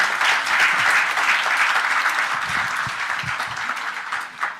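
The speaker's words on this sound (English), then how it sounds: "a round of applause once more to welcome him" Conference crowd applauding to welcome India's External Affairs Minister S. Jaishankar at the Bharat @100 Summit, a full, sustained round of clapping that tapers slightly toward the end.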